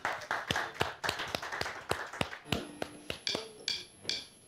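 Sparse, fairly quiet clapping from a small studio audience welcoming a singer onto a Turkish TV program, individual claps audible at an uneven rhythm rather than a full roar.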